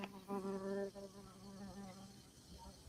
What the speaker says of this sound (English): my bee is flying around beside me